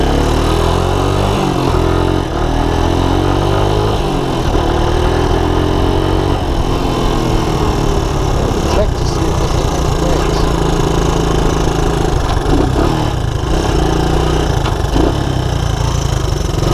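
A Honda Big Red ATC200ES three-wheeler with a 12-volt CDI ignition conversion runs at a steady idle, close up and loud, with a rough mechanical chug and a few brief knocks along the way.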